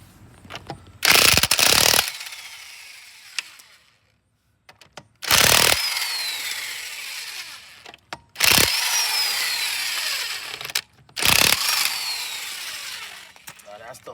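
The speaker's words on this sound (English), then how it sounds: "Now that's the lug nut removal." An impact wrench with a 19 mm impact socket removes the lug nuts on a 2007 Jeep Liberty, firing in four loud, rattling bursts separated by quiet pauses with someone talking nearby.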